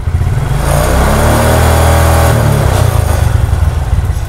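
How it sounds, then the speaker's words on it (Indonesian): A Suzuki Shogun 125 motorcycle engine with a full-wave electrical conversion revs under added throttle: a loud, close, steady buzzing drone that swells and holds for several seconds. "Dan saat saya tambahkan gas"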